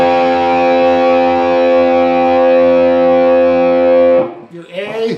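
A single electric guitar note, tuned a half step up, sustains with a bright, distorted tone for about four seconds before it is cut off and followed by a brief muffled scrape.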